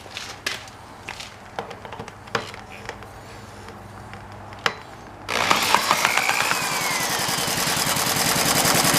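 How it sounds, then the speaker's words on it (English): Flathead model engine with a manual clutch, preceded by scattered clicks and knocks, then bursting into life halfway through and running with a steady rapid chatter, close and fairly loud. "we'll start the engine and see what we can come up with"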